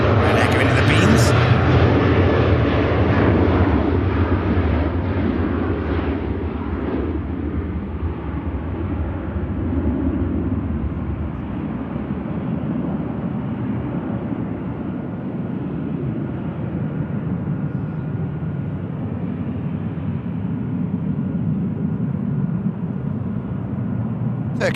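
A Ryanair passenger jet at Manchester Airport gives a loud roar that gradually subsides into a sustained rumble, while a voice talks over it.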